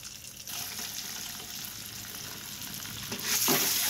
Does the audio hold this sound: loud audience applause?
no